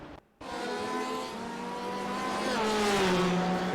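Onboard audio from a wrecking race car in a racing game at the Charlotte Roval: after a brief cutout, a loud, continuous engine drone with tire squeal rises and shifts pitch as the car loses control.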